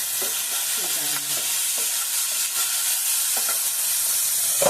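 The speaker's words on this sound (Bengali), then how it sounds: "যাতে আমার ভাজতে ভাজতে উচ্ছেগুলো সব সেদ্ধ হয়ে যায়" Bitter gourd pieces stir-fry in a pan with a little salt, a constant sizzle of oil under brief scraping strokes of a spatula, close up and without talk.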